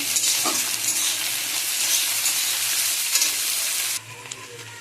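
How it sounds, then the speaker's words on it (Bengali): Sliced carrots and beans fry in a hot pan while being stirred, making a loud, dense sizzle with scraping strokes, then dropping to a quieter hiss near the end. "গাজর বিনস কেটে রেখেছি, সেটা ভেজে নেব"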